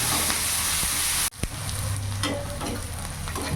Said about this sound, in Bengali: পেঁয়াজটা ভালো করে একটু ভাজা ভাজা করে নেবো যাতে পেঁয়াজের কোনো কাঁচা গন্ধ বা কাঁচা ভাবটা না থাকে